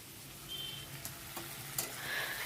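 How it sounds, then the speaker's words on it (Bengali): Spices frying in a pan before the meat goes in, a soft continuous sizzle with a few faint stirring scrapes and clicks, no voices. "মাংস করার আগে এগুলো একটু ভালো করে ভেজে নিচ্ছি"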